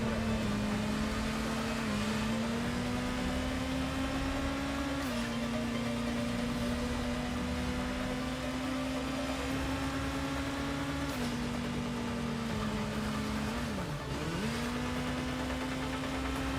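A motorcycle engine in a video game drones steadily for the whole stretch while the rider holds a wheelie, with small pitch dips and rises as the revs shift, loud and continuous without talk.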